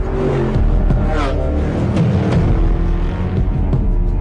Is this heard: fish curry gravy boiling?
no